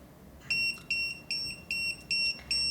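A Retekess TD158 restaurant pager beeps six times in a steady rhythm, each a short, shrill electronic tone with brief gaps between, heard close and alone in a quiet room.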